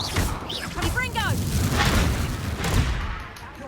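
In the video game Hogwarts Legacy, the Confringo blast spell sets off booming explosive hits among whooshes and chirping magical effects, dense and loud throughout before tailing off.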